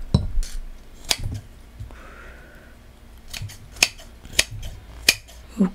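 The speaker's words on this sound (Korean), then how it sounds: "고니도 얘는 잘라 먹어야겠죠?" Scissors cut through braised monkfish in a close, sharp series of crisp snips and clicks, about eight spaced irregularly with brief quiet gaps and faint plate clatter between them.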